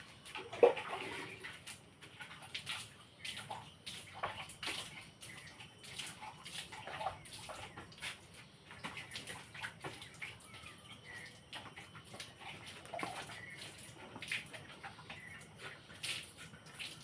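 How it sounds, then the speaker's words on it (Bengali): Something being washed under running water, a faint continuous trickle and splash with scattered small clatters and drips, fairly quiet and without speech. "ভালো করে ধুয়ে নেবেন।"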